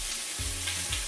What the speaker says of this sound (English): putting our cut up sausage in this pot